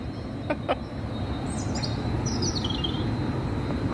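Recorded birdsong plays faintly over a steady, loud rushing background on a trip from Cananéia toward Ilha Comprida, with a few brief chirps and twittering calls rising above the constant noise.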